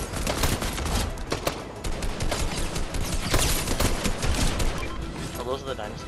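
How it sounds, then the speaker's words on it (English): Gunfire from dinosaurs in a shooter video game, clustered bursts of shots crackling through a busy game mix while players talk over it. "The dinosaurs shoot there now."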